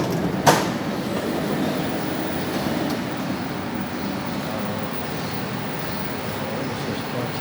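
A Bangkok underground metro train runs between Chatuchak and Lat Phrao, heard from inside the carriage as a steady, even rumble and whir with a single sharp click early on and no talking.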